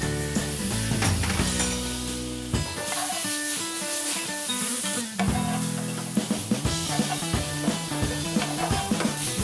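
Tomato stirred into frying masala in a pan for a prawn dish, a steady close sizzle with scraping and rubbing stirring strokes throughout.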